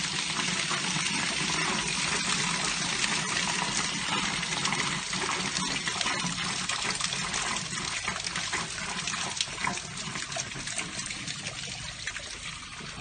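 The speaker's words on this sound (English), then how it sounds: "that's enough water to drain out." Water drains out of a house water system through opened valves, a steady trickling, gurgling flow that runs continuously and fairly close, fading slightly toward the end.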